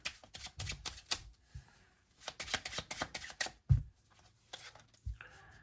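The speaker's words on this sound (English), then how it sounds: "if this is what an overhand shuffle is supposed to look like" Playing cards are worked through an overhand shuffle in quick bursts of crisp riffling slaps, several short runs separated by brief pauses, close and fairly quiet.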